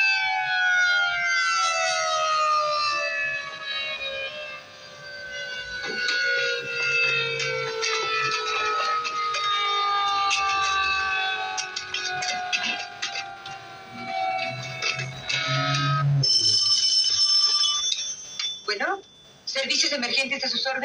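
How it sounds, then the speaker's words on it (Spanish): A wailing ambulance siren sweeps up and down steadily, fairly loud and close, with faint voices and clinking underneath. "Ahí viene la ambulancia."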